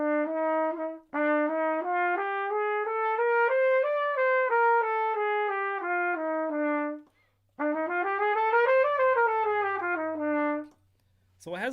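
A solo trumpet plays a bebop scale starting on the third, E, running up and down in even stepwise notes with a short break before a second run, clear and close with no talking.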